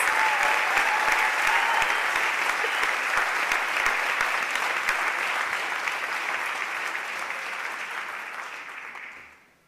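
A senior awards night audience gives a long round of applause for the class of 2024 valedictorians, steady and full for several seconds before fading out at the end.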